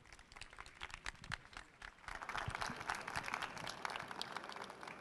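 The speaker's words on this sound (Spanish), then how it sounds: "Un fuerte aplauso para él, por favor." An audience at a conference on digital journalism applauds, a faint, distant wash of many hands clapping that swells after a couple of seconds and holds steady.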